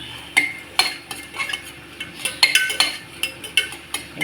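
Cabbage is stirred and sautéed in a pan, a metal spatula striking and scraping in a steady rhythm of sharp clinks roughly every half second over a soft background sizzle.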